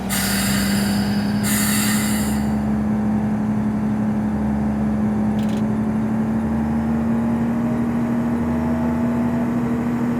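A locomotive in Train Simulator Classic on a Manchester match day run pulls away, a steady loud engine drone rising slowly in pitch, with brief hissing bursts of air at the start and a short clank partway through.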